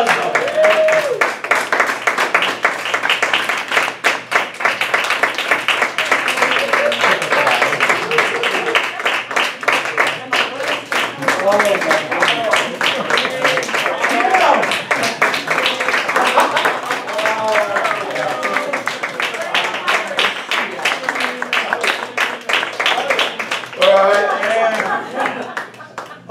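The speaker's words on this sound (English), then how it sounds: "Keep that applause going." A crowd at a Lake Mary Independence Day event claps and applauds loudly and steadily, dense rapid claps running throughout with voices and cheering mixed in.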